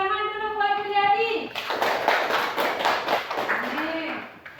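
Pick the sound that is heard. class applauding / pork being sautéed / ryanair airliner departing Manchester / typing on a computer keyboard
class applauding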